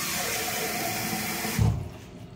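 Water pours steadily from a tap or jug into a pot as about 1.5 litres go in for noodle soup broth in a home kitchen, a loud continuous rush that cuts off abruptly near the end.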